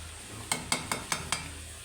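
Beef curry with green chilies cooking in a pan gives a soft, steady sizzle, punctuated by five evenly spaced sharp clinks of a utensil against the pan, close and quiet with no talking.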